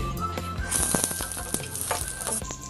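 Empanada filling cooking in a pan of oil and butter, a bright crackling sizzle with scattered pops and clicks of stirring utensils, close and fairly loud, no talking.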